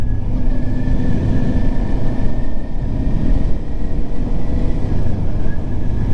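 Rice harvesting machine working a field in Japan, a continuous loud engine drone with a steady mechanical whine and rumble, running alone throughout.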